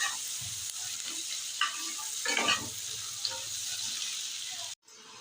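Chopped onion with bay leaf frying in oil, a continuous close sizzle with a few stirring scrapes, cutting off abruptly near the end.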